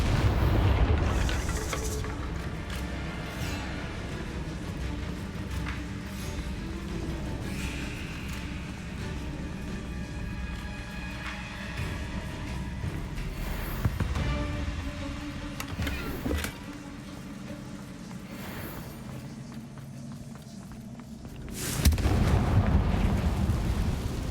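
Confringo blasting spells exploding in Hogwarts Legacy, scattered booms over a long murky game background, with a sharp burst near the start, a couple mid-way and a louder blast near the end.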